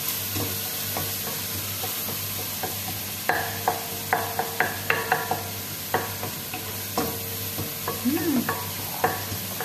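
Garlic and ginger, then onion, sauté in a pan for arroz caldo: a steady oil sizzle under repeated clicks and scrapes of a stirring utensil, close and continuous with no talking.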